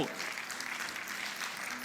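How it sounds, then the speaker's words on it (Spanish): A church congregation claps during a sermon, a faint, continuous wash of applause from a roomful of people heard at a distance, with no other sounds standing out. "Aplauda al Señor por eso."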